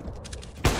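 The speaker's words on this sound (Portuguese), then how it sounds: "Tiros de advertência foram dados" A short burst of gunfire from warning shots in the video game CS:GO, loud and sudden near the end, standing out over quiet low game ambience.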